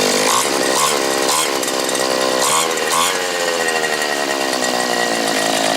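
A loud small engine, just after a carburetor needle adjustment, runs close by, revving up and down a few times before settling into a steady buzzing idle.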